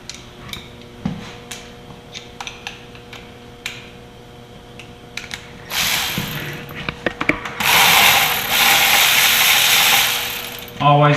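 A ratchet with an extension clicks in short bursts while turning bolts during a Yamaha Viking sheave and slug kit install. Louder, sustained mechanical whirring follows near the end.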